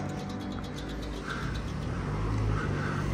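Road traffic passes a street crossing on St Cuthbert Street in Bedford early on a Saturday morning, a low steady rumble of vehicles that swells slightly toward the end.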